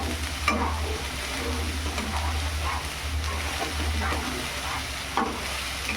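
Onion paste frying in a pan for a masala brinjal curry, a continuous sizzle broken by repeated spoon-stirring scrapes and a few sharper knocks against the pan.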